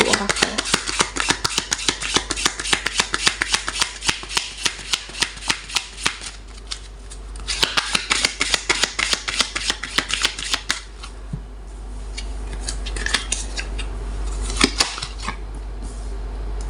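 Oracle cards are shuffled in rapid riffling bursts, a dense run of crisp papery flicks that pauses briefly and resumes, then gives way to softer card handling, close and clear with no talking.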